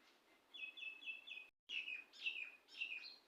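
A common myna kept as a household bird chirps up close: a quick run of four whistled notes, a brief break, then three louder chirping bursts, with no talk over it.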